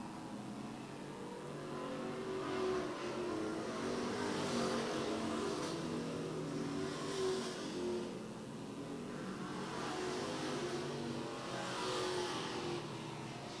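Street stock race cars lapping the oval at Lee USA Speedway, engines droning steadily at mid distance with swelling passes as packs roar by, no talk over the continuous racing noise.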